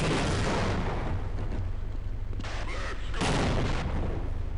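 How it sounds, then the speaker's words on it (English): A grenade explodes in the video game Half-Life, a loud, broad blast that keeps roaring with dense rumbling noise for several seconds, swelling again near the end. "Oh, grenade."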